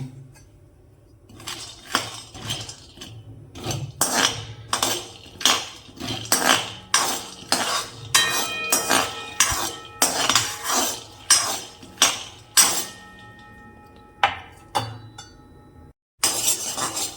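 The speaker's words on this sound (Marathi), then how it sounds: "आता भाजून घेतो शेंगदाणे मस्तपैकी" Peanuts tossed and roasted dry in a hot kadhai, with loud rattling scrapes and clinks as a spatula stirs them in rhythmic bursts, close up and without talk.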